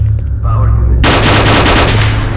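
Automatic gunfire in the video game STALKER: Oblivion Lost erupts abruptly after a low rumbling hum, a loud rapid burst of shots continuing to the end.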